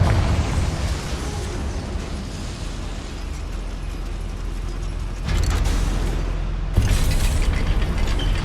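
A spell-cast explosion in Hogwarts Legacy inside a goblin mine: a loud sustained blast and rumble with heavy low-end, followed by two sharper bursts that crash in near the end.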